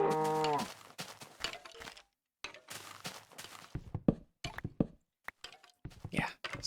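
Cows in Minecraft give a few low moos over game noises such as thunks and footsteps, while a player talks through parts of the sound.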